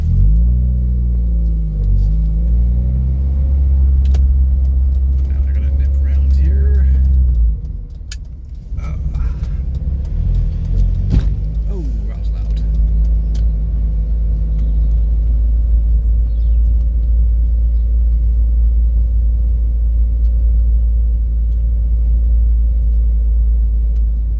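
Engine of a pre-facelift Mazda MX-5 Mk3 driving slowly around poorly parked cars, a steady low rumble from inside the car with a brief dip midway before the drone resumes, no talk.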